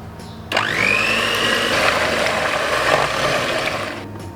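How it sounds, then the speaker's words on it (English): An electric mixer starts abruptly and whirs steadily as milk is blended into a milk tart mixture, close and loud, its motor pitch shifting slightly as it works before winding down near the end. "We're gonna add the rest of the milk into this mixture and mix it."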